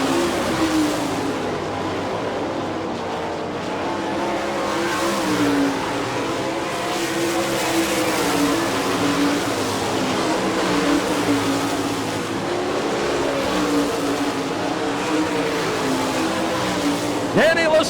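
Sprint cars roar around the Barberville, Florida dirt oval during an All Star Circuit of Champions Speedweek race, a dense, continuous engine howl rising and falling as the pack circles, loud throughout.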